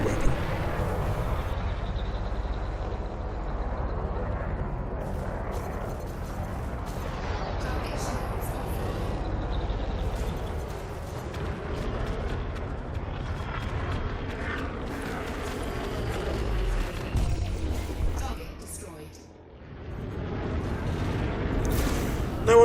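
Pacifier frag cannon firing in Elite Dangerous, used for PvP combat from a Vulture in a hazardous resource extraction site, with repeated heavy booming blasts and mechanical rumble over a dense, continuous game soundscape.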